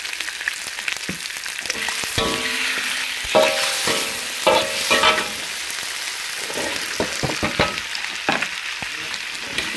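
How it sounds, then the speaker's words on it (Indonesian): Sambal sizzles and fries in a hot pan with a splash of soy sauce while being stirred, a loud continuous hiss broken by scraping and clinking of the spatula, close up with no talking. "saya masak dulu sambalnya. Saya kasih kecap sedikit."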